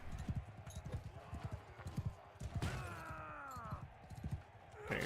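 Horse hooves clip-clopping in the medieval game Mount & Blade Knightfall, a rapid close rhythmic clatter that pauses under a rising whinny-like tone, then resumes with a sharp clack at the end.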